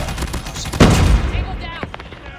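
Gunfire from the LK gun in a video game, a loud close burst of rapid shots that fades into scattered lighter shots, with some other game noise mixed in.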